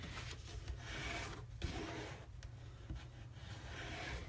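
A bone folder is drawn firmly along folded cardstock to set a crease, making a quiet, close, dry rubbing and rasping in several slow strokes.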